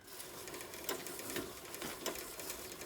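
A homemade seed drill mechanism built from a bicycle sprocket and washer runs with a steady mechanical whir, and a few louder clicks or knocks mark roughly each second.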